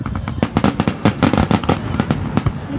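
Canada Day fireworks exploding in Kelowna, a dense rapid crackle of many sharp pops and bangs firing in quick irregular succession, loud and continuous with no talk.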